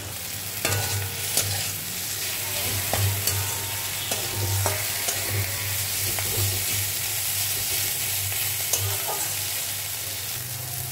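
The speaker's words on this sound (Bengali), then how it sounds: "সব একটু ভাজা ভাজা করে নিতে হবে।" Continuous frying sizzle in a pan of prawn heads with onion, garlic and green chillies, with repeated spatula scrapes and taps stirring the contents at an irregular pace.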